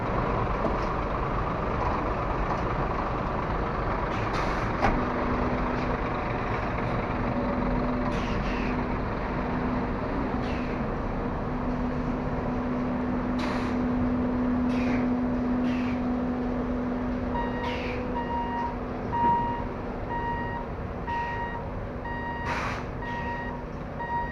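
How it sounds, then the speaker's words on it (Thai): A 22-wheel truck reverses to hitch its trailer, its steady reversing beeper repeating under a loud, continuous engine rumble with occasional air hisses; no one talks. "มันก็จะถอยเสียบหางครับ ดูพี่เอถอยเสียบหางกัน"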